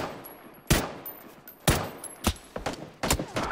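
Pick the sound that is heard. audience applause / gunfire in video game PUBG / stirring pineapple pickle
gunfire in video game PUBG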